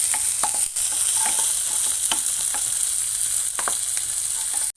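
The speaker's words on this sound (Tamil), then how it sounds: "தக்காளி போட்டுக்கிறேன். நான் நல்லா போட்டு மிக்ஸ் பண்ணிக்கணும்." Chopped tomatoes and onions sizzling loudly in a pan, stirred with repeated scraping and tapping strokes over a constant hiss before it cuts off abruptly.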